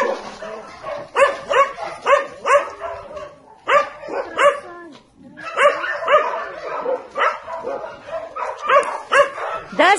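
Puppies bark in quick repeated bursts, several yips and barks in a row with short pauses between them, loud and close, while people talk quietly in the background.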